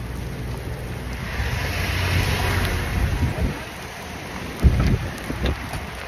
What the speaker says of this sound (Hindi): जोरों से बारिश आ रही है।